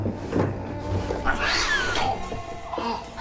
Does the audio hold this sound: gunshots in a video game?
no